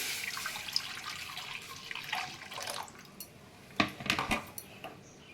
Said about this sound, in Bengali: এবার আমি কড়া বসিয়ে দিয়েছি, এবার ওর মধ্যে আমি ঢেলে দিচ্ছি।